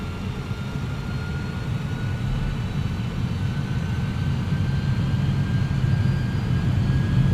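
TFDi MD-11 heavy cargo jet engines in a flight simulator spool up for takeoff at Ontario, a steady deep roar with a thin rising whine building gradually, no voices.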